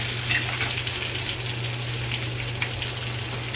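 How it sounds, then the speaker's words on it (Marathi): Brinjal pieces sauté in a pan with a continuous, even hiss of frying oil and a faint scrape or two, over a low steady hum. "अजून थोडी परतून द्यायची आपल्याला 2 मिनिटं. हे बघा, हे अशी परतून द्यायची आहेत आपल्याला."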